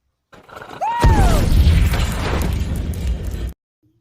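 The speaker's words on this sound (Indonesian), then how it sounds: "Saat percobaan pertama, uraniumnya meledak karena kelebihan oksigen." A whistling sweep leads into a loud, booming film explosion of uranium on Mars, followed by a few seconds of heavy rumbling roar that cuts off abruptly.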